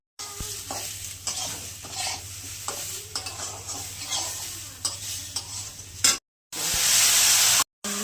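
Potato, tomato, green chilli and ginger stir and sizzle in a hot pan for a Bengali fish-head muri ghonto, a steady frying hiss broken by spoon scrapes, with a louder sizzle burst near the end.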